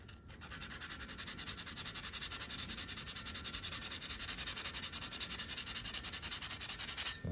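Steady, gentle scrubbing of rust off a cast iron griddle, a continuous close abrasive rasp with a fast even back-and-forth rhythm and light pressure, alone without talk.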